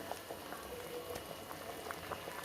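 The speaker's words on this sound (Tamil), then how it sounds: "இப்போ ஒரு 5லேருந்து ஒரு 7 நிமிஷம் வரைக்கும் இது வந்து நல்லா கொதிக்க விட்டுருலாம்." A pot of Tamil dry fish gravy (karuvattu kuzhambu) with salt added simmers at a steady boil, soft bubbling and popping close up, quiet and continuous with no talking.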